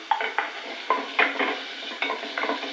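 Vegetables stir-fry in melted butter in a pan, with a spatula scraping and tapping in uneven bursts over a light, constant sizzle, heard up close.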